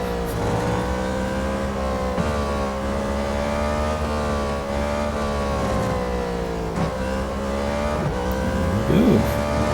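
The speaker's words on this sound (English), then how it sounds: "engine sounds great as well" An Ariel Atom V8 race car engine in the video game Real Racing 3 drones at high revs, its pitch rising and falling slightly as it holds a steady, buzzing tone.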